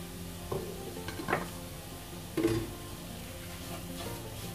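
Duck curry masala with turmeric being sautéed in a pan, a soft continuous sizzle broken by a few scraping stirs of the spoon, fairly quiet throughout.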